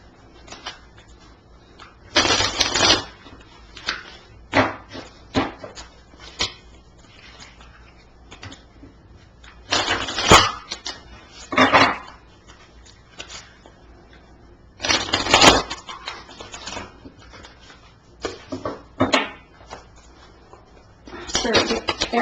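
Tarot advice cards shuffled by hand in repeated bursts of papery riffling and slapping, loud and close, with quiet pauses and faint handling sounds between.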